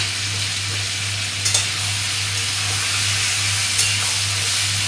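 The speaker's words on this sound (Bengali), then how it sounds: "দিয়ে একটু চিকেনটা ভেজে নেব।" Chicken pieces, lightly salted, fry in a pan with a steady, close sizzle and a couple of brief sharper crackles. A low hum runs underneath.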